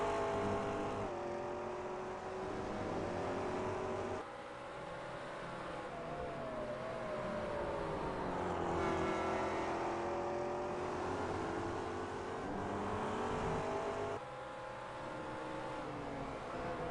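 A Daytona prototype race car in a Grand Am race powers out of the corkscrew corner, its engine droning and rising in pitch as it accelerates, loud and continuous with a few gear-shift drops.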